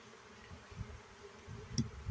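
Honey bees buzzing at a hive during a honey flow check, a faint continuous low hum with a few closer passes swelling briefly.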